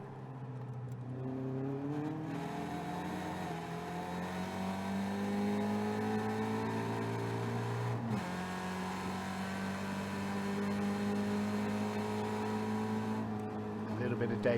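A pack of Caterham race cars runs three abreast down to Lodge corner at Oulton Park, engines revving loudly and continuously, climbing in pitch, with an abrupt gear-change drop midway.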